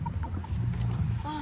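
Backyard chickens, including a broody hen, cluck in short bursts at close range over steady low-pitched background noise, with one brief higher call near the end.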